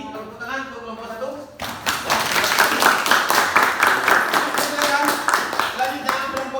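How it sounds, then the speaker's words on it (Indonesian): A classroom group claps and applauds together for a student group, starting abruptly after a teacher's voice and continuing as steady, dense, near clapping with a few voices mixed in. "ini tepuk tangan untuk kelompok 1"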